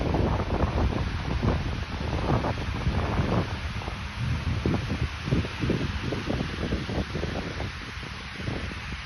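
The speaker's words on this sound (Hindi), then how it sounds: "हवा अपने साथ खींच रही है, इतनी तेज है।" Strong winter wind batters the microphone beside a lake in the USA, a loud continuous roar with gusty low thumps and pulses throughout, and no voices heard.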